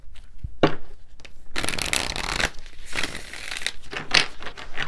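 Tarot cards are shuffled by hand in quick riffling bursts and slides, close and crisp, with brief pauses between shuffles.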